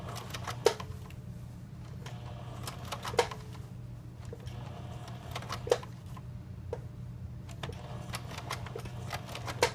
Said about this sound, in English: I'm going to go just sort of one stitch at a time.